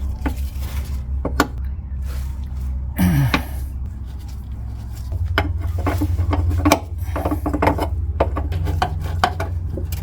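Metal wrench clicks and scrapes at the rear brake hose connection of a 1967 MG Midget, with sharp close taps and rubbing against a steady low hum, plus a brief louder rasp partway through.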